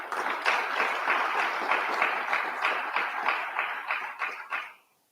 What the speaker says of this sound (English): So please give yourselves a quick round of applause there.